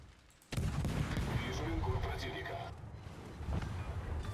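Naval guns fire in World of Warships from a Russian Kiev destroyer, a sudden heavy boom followed by a sustained rumbling roar, with another thump near the end, and a voice talking over the gunfire.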